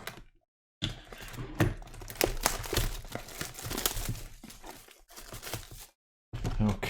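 Scissors snipping and crinkling through the plastic wrapper on a trading card game booster box, a busy run of close cuts and rustles with short silent gaps at the start and end.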